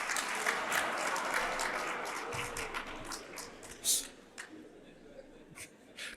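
Audience applause at a 50th anniversary gala dinner, a steady crowd clapping that fades over several seconds into scattered claps and a few voices.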